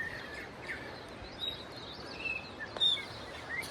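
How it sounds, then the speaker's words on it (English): Wild birds sing in the New Zealand backcountry, with several faint, scattered chirps and whistles over a quiet hiss of forest ambience. "Just thought I'd record the bird song if I can get it."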